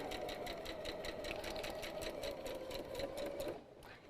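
A sewing machine running a straight line of stitching while chain-piecing patchwork, a steady rapid needle clatter over a hum, close and moderately quiet, stopping abruptly near the end.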